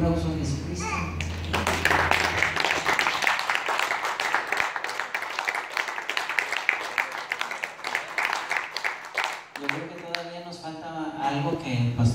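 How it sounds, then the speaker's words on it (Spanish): A congregation at a church service claps in a dense burst of applause lasting several seconds, with voices talking before and after. "Podemos darle un aplauso a Jesucristo."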